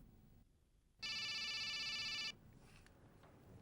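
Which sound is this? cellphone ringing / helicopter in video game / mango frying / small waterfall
cellphone ringing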